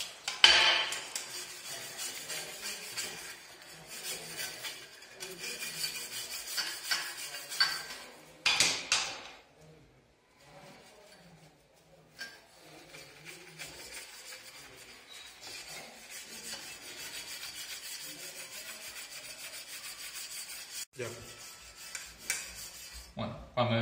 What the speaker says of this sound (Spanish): Mojamos también el complemento para limpiar y le echamos jabón